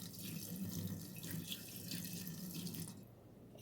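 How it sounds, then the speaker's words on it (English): Warm water runs steadily from a tap into a cup for a few seconds, a soft continuous splashing trickle close by that cuts off near the end, with no voices. "Put a cup of warm water."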